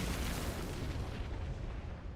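A rocket launcher blast from RE Requiem rolls out as a dense, sustained roar with a heavy low rumble, staying loud and unbroken for the whole stretch with no talk.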